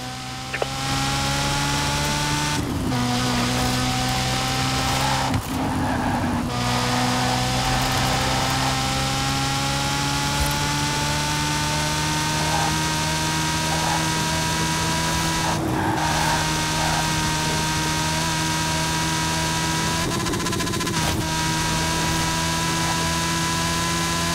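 A Ferrari F40 racing in the Forza Horizon 4 video game, its engine droning steadily and loud throughout with rising and falling pitch, broken by several brief gear-shift or skid bursts.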